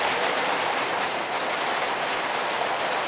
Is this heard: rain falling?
yes